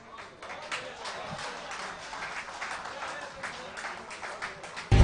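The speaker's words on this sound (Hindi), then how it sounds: "जोरदार तालियां अंकित सर के लिए" Audience applause at a live stage event in India, moderate steady clapping from a crowd that continues throughout and swells at the close.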